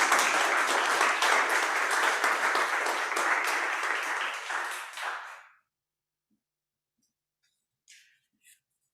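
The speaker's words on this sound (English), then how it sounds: "Can we have another round of applause and thank you?" A meeting audience gives a round of applause, dense clapping for about five seconds that stops abruptly, followed by near silence with a few faint knocks.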